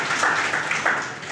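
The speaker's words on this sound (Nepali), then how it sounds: "ताली" An audience claps in a brief burst of applause at a school stage event in Butwal, the clapping dense and steady throughout.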